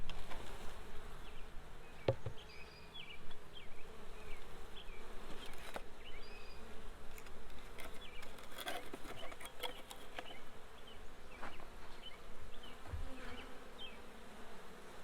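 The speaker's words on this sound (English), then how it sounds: "So these bees are loving this queen because they are all around her." Dense, steady buzzing of honeybees clustered around a queen cage in a freshly installed 3 lb package, a continuous close swarm hum with occasional brief taps and rustles.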